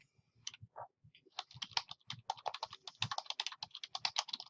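Fingers tap on a computer keyboard while entering an author's name, a close run of quick clicking keystrokes that starts sparse and speeds into a dense, uneven burst.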